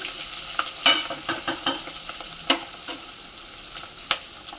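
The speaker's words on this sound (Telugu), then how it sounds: "ఎండ్రాయిలు వేయించుకోవాలి కాబట్టి ఎండ్రాయిలు వేసేస్తున్నాను." Ingredients sizzle and fry in oil in a pan while being stirred, with soft crackling and a few louder scraping clicks of the spoon against the pan, close by with no talking.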